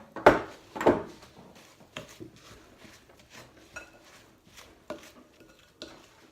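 A spoon stirs wet ingredients into dry ANZAC biscuit dough in a bowl, with two loud knocks at first and then soft, irregular scraping and thudding strokes.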